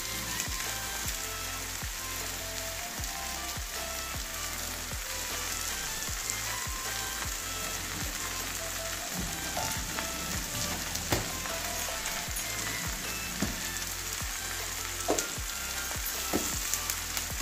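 Bitter gourd frying with mustard paste in a pan as water goes in, giving a steady loud sizzle with crackling and occasional stirring scrapes throughout.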